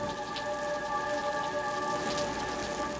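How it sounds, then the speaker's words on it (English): Steady rain falling in British Columbia during the forest fires, a constant hiss of drops on surfaces under a faint background tone, with no voices. "we got rain."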